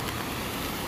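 Heavy rain falls in Jeddah, Saudi Arabia, as a dense, steady broadband wash of noise that is close and even, with no voices over it.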